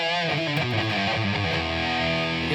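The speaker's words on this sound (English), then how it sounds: "when I have my overdrives stacked with the amp, it sounds like this." A Vintage V1003 Ace Frehley SC Les Paul-style guitar plays through stacked overdrive pedals into an amp, giving a loud, thick, heavily distorted chugging riff with sustained harmonic-rich chords throughout.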